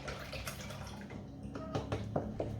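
Milk pours from a container into a saucepan, a soft continuous liquid splashing and trickling, near but quiet, ending with a few drips.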